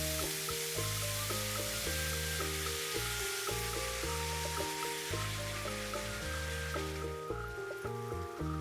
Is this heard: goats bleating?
no